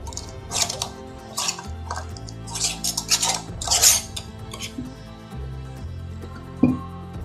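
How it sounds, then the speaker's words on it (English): Glass and metal clinks and clatters as an Ecojarz fermentation lid is fitted onto a jar of beets in water, a few sharp taps and scrapes close by, with a faint steady hum underneath. "Now we are going to put on our Ecojarz fermentation lid."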